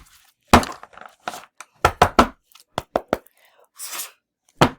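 A series of sharp, clacking knocks of rune stones being shuffled and tumbled, in uneven bursts with short pauses, close and fairly loud.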